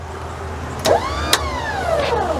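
A Thetford macerator pump starts up with a sharp click, then runs with a steady whine that sweeps upward and settles, with another brief click partway through. It is close and clear, and nobody speaks.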